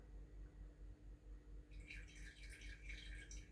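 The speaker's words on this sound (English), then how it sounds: "I'm going to pour what I have left in here" Tea tree oil dripping from a bottle into a salve mixture, a quick run of light, close drips over a steady low background hum.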